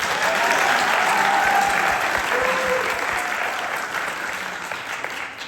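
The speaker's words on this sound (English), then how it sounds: "Give it up for Melissa Jones." Audience applause at a university jazz concert, a dense steady wash of clapping from a large crowd that holds loud for several seconds, then tapers slightly, with faint voices and whoops mixed in.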